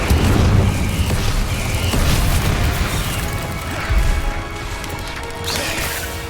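Incendio fire spell cast repeatedly in Hogwarts Legacy, heard as dense crashing, booming bursts of fiery impact layered over busy game effects, loud and continuous with a stronger burst near the end.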